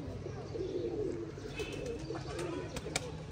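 Pigeons coo in a rooftop pigeon loft where new pigeons and young birds are flown, a steady close murmur of low cooing with occasional faint chirps and a few sharp clicks toward the end.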